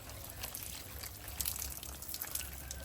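Neem oil solution sprayed onto garden plants, a steady wet hissing spray with faint splashes, continuous and close over a low background rumble.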